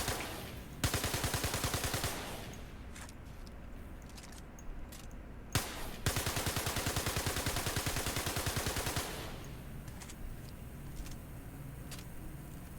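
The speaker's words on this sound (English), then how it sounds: "I'm going to start by shooting this one" Rapid automatic gunfire in the space game Star Citizen or Elite: long, loud, evenly spaced bursts of shots, broken by brief sharp cracks and a quieter gap before the firing resumes.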